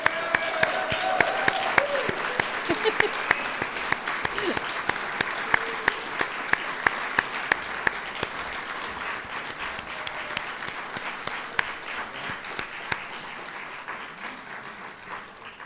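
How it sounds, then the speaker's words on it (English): A graduation ceremony audience claps for the graduates of a HiSET class, a long, dense wave of applause with sharp individual claps standing out near the start and slowly easing off toward the end. "So let's give a round of applause to all of our graduates."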